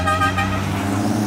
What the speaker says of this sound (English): And the Mini with the horn.